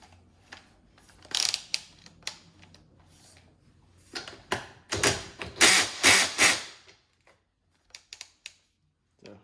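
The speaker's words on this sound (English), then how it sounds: "Sorry about the noise, it's ratcheting" Bursts of rapid mechanical clicking from a socket wrench ratchet with a 13mm socket, close up, during an Asus PG27UQ monitor teardown, in several runs with pauses between, the last few short and spaced.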